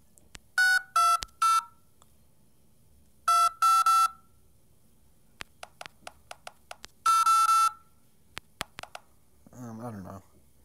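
Touch-tone phone keypad beeps in a video game, several bursts of rapid dialing tones separated by gaps, then a few isolated single key beeps and a short garbled sound near the end, with no talking over them.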